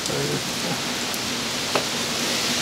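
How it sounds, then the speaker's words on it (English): Steady rain falls outdoors, a dense, even hiss of drops across the whole stretch, close and continuous, with a faint voice briefly in the background near the start. "5 minutes later, still raining."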